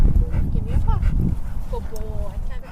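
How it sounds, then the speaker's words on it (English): A golden-furred dog named Jack in a jail parking lot gives short yips and high whimpering whines, close by, over a murmur of people and background chatter. "The dog's name is Jack."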